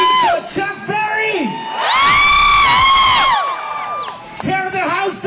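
An open-air concert crowd in Hamburg cheers and whoops loudly, a dense roar of many voices swelling in the middle, with a shouting announcer's voice at the start and end.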